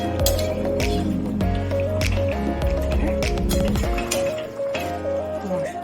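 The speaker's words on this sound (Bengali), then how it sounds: "চিকেনটা এবার কষাচ্ছি।" Marinated chicken is sautéed in spiced oil, with a wet squelching sizzle and clinks of a spoon against the pot, heard over steady background music.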